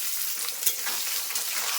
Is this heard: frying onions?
yes